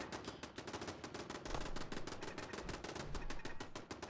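Rapid automatic gunfire in a Fallout 4 firefight with a legendary raider, a dense stream of shots rattling steadily and fairly quietly throughout, with no talk.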